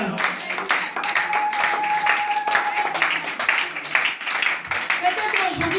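A church congregation claps in quick, lively rhythm while acclaiming the Lord, with voices singing and calling out over steady applause.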